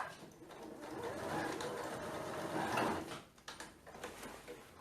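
Domestic sewing machine running a short line of stitches to tack a fabric dart on a handmade bag, a steady close mechanical whir that eases off near the end with a few lighter clicks.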